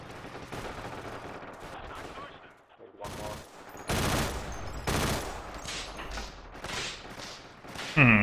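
Gunfire in the World War II shooter Forgotten Hope 2: dense, loud volleys of rifle and automatic shots with sharp individual cracks, rolling echoes and a brief lull partway through.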